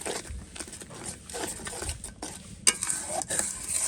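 Spices with chilli powder being stirred and fried in a pan, a soft sizzle under uneven scraping and knocking of a utensil against the metal, one sharper clink partway through, no talking.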